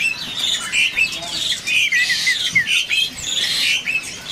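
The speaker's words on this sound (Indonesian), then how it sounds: "Di sini ada burung ciblek gunung ya." A mountain ciblek bird sings in a steady run of bright, high chirps and trills, close and clear, with no talk over it.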